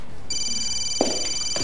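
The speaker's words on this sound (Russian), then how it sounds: "Тебе звонит какой-то Дима Футбол" A mobile phone rings with an incoming call, a steady electronic ringtone with clear high tones sounding close and continuous, with faint background noises underneath.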